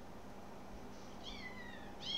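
A pet cat lets out faint, high meows indoors, one drawn-out call followed by the start of another, over a low steady background hum.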